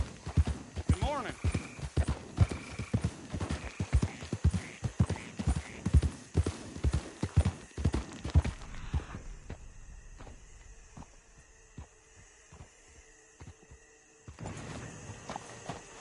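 Horse hooves clip-clop rapidly while riding in the video game Red Dead Redemption 2, loud and rhythmic at first, then thinning to quieter scattered steps, with a whinny and a voice speaking over them.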